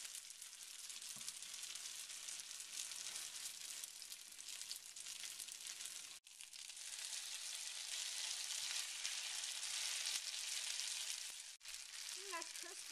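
Food crisping in a hot pan just after being flipped, a steady loud sizzle and hiss that runs on with two brief dips, no talking over it.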